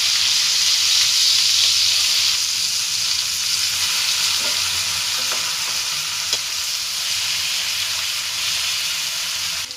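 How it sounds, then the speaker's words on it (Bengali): Shrimp frying in hot oil while being stirred and turned, a steady loud sizzle with soft stirring clinks throughout, no talking. "লাল লাল করে ভেজে নিচ্ছি।"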